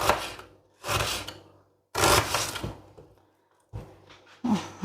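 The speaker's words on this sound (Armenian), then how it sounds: "Չախոբիլի պատրաստելու համար անհրաժեշտ է շատ առատ սոխ, ես կտրատում եմ" A knife chopping onions for chakhokhbili in a home kitchen, heard as separate bursts of cutting with short pauses between them, close and fairly loud, with no talking.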